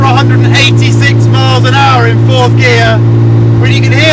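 A Porsche 9FF GT9 engine drones loud and steady from inside the car as it drives in third gear at about 50 mph, with someone talking over it throughout.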